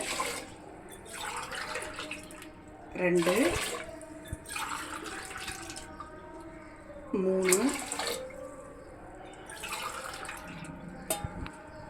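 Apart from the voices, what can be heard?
water being poured into a pot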